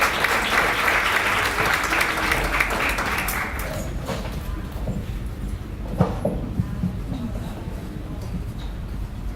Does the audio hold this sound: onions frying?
no